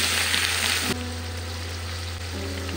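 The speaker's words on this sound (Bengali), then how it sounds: "বেগুন ভালো মতন ভাজা ভাজা হয়ে এসছে।" Eggplant frying in oil in a pan, giving a dense, close hiss that is loudest at first and then drops to a steadier, quieter sizzle.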